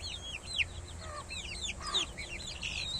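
A hen clucking among her chicks, several birds calling at once, with high chick peeps and chirps repeating in quick bursts over a low, steady background noise.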